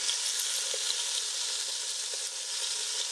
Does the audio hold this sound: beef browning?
yes